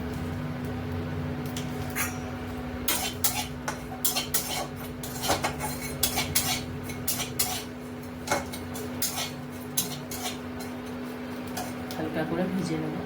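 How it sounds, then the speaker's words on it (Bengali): Dry spices (radhuni, fennel and panch phoron) are stirred in a hot wok, with repeated metallic scrapes and clinks of the spoon against the pan, close and irregular, while a voice talks in the background. "হালকা করে ভেজে নেব।"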